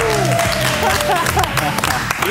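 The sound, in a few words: audience applause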